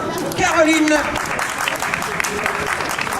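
An audience applauds at an outdoor troubadour tournament in Gruyères. Steady, dense clapping is joined by a few voices and some faint tonal sounds.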